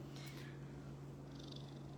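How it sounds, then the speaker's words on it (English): A cat purrs loudly and steadily up close, a low rhythmic rumble with a faint higher rustle over it, no speech. "he's like one of the loudest purring cats."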